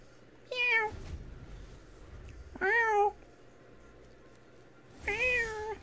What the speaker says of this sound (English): Who's this? It's my cat.